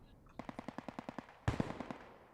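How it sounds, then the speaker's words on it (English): Automatic gunfire in a Post Scriptum tournament match: a steady burst of about a dozen evenly spaced rounds, then a louder, heavier volley of several shots with echo trailing off. "Less and less gunshots are heard."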